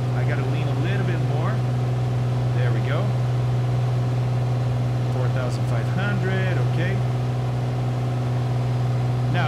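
A steady, loud aircraft engine drone hums continuously in a flight simulator on a ferry flight from Greenland to Iceland, with someone talking intermittently over it.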